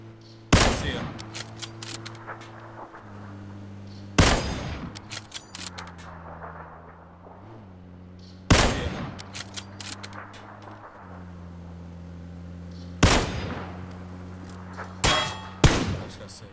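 Gunfire in PUBG on Xbox One, a few loud sharp shots spaced several seconds apart with metallic ringing tails, over a steady low hum and faint background sounds.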